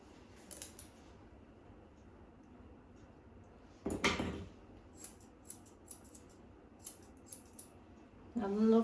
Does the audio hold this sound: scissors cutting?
yes